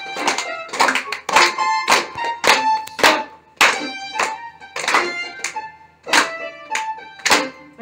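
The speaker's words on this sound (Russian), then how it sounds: "Так, хлопаем сначала." Hands clap in a steady rhythm at a New Year show, sharp close claps in bursts, with faint singing or voices woven between them.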